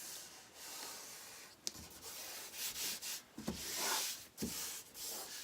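Paper cut-out letters pressed onto a glue-stick-coated surface and rubbed smooth by hand, giving soft, close scuffing and rubbing strokes with a few light taps, steady and quiet with no talking.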